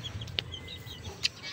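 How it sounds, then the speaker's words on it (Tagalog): A couple of short, sharp chicken clucks over a low, steady background rumble, with a quiet rustle in between. "Ito na yung manok niya."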